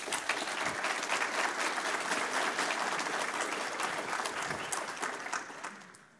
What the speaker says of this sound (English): thank you for the applause for them